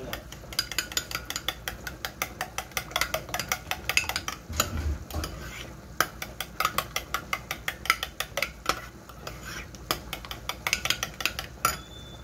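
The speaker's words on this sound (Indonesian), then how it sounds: "lalu kita kasih sedikit air, kemudian kita kocok" A mixture with a little added water whisked briskly in a bowl, rapid rhythmic clinking and scraping close up, steady throughout with no talking.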